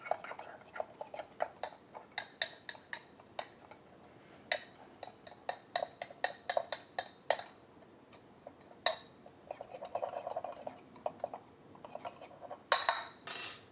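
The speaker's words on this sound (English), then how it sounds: "So I'm gonna stir this together with my fork" A metal fork stirs dry spices, including granulated garlic, in a bowl, giving a steady run of light clinks and ticks against the side. The strokes come in quick irregular bursts and sound close and fairly soft, with no talking.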